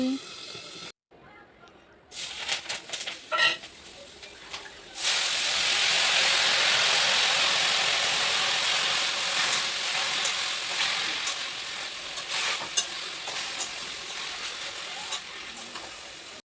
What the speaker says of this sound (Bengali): এখানে মাছগুলো ভাজি করছি